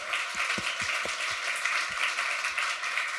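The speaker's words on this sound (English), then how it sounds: "applause for all of you" A crowd applauds at a customer success meetup in San Francisco, a dense, even wash of clapping that runs steadily for the whole few seconds, with a few low thumps beneath it.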